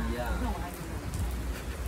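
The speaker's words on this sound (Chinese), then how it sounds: "下雨下这么大" Heavy rain pours at a skatepark during a night storm, a dense, steady hiss of drops hitting surfaces that sounds fairly faint and unbroken, with voices talking over it.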